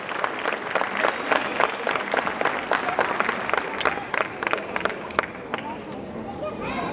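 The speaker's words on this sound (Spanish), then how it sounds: "para quien pido un fuerte aplauso" A crowd at a huapango music gathering in Chicontla gives a band strong applause, with dense, sharp clapping and light crowd noise that fades out near the end.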